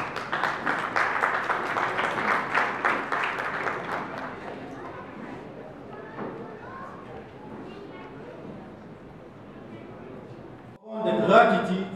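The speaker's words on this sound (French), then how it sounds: "Vos acclamations, s'il vous plaît." Audience applause at a Mawlid ceremony commemorating the Prophet, with steady clapping for the first few seconds that fades into crowd murmur and shuffling, then a burst of louder noise near the end.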